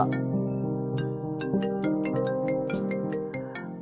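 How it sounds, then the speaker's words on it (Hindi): A phone ringtone plays an incoming-call melody of bright, evenly spaced tonal notes over a sustained harmonic backing, clear and steady with no talking. "अरे देखो यार, फोन आ रहा है तुम्हारा।"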